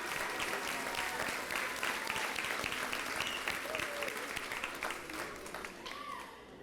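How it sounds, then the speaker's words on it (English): Sustained audience applause at an elementary school's tenth anniversary celebration, honoring school staff members; dense, steady clapping from a large crowd that holds strong throughout before easing slightly near the end. "So let's give them a round of applause."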